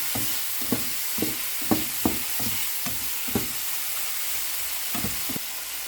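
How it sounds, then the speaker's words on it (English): Rice stir-fried with mixed seasoning in a hot pan, giving a steady sizzle with a series of soft scraping and tossing strokes at a loose, irregular rhythm, close up with no talking. "Add the mixed flavor, stir for a few seconds, then add the bowl of rice."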